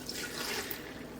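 Water poured from a cup over chopped vegetables for a Caribbean oxtail recipe, a steady close splashing and trickling that runs evenly for about a second with no voices.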